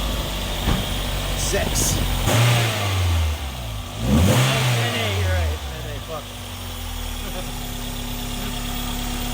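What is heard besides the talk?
1994 Toyota MR2 engine starting and idling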